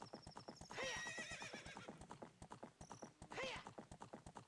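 Epona the horse in the Ocarina of Time video game, with rapid rhythmic hoof clip-clops galloping throughout and two whinnies, one early and one near the end.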